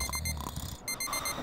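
An alarm going off, a bright repeating electronic beeping in a steady pulse over a busy, noisy background, loud and close.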